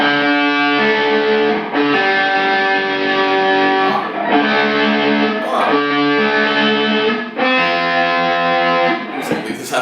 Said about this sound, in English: It's gonna sound good with distortion because this amp is like super high gain.